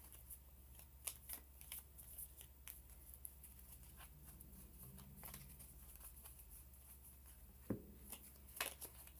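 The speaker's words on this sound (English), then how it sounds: "So we shuffle up and we go again." Cards for a solitaire board game are shuffled quietly, with soft riffling and tapping clicks scattered through a low, steady room hum.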